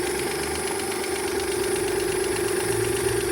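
A car engine idling steadily after carburetor work, a constant close mid-pitched hum with a faint even knock and light rattle running throughout.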